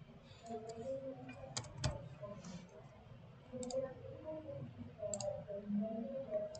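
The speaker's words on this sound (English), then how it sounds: "keyboard going on here" Computer keyboard keys clicking in scattered, irregular taps as a Java craps game is played, with a few sharper clicks standing out over a low steady background murmur.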